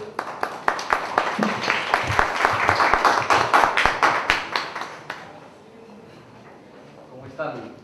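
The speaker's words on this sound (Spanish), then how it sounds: "Por favor, un fuerte aplauso para todos" An audience applauds loudly for about five seconds, the many hands clapping densely before thinning out and stopping, after which a quieter stretch with faint voices and room noise follows.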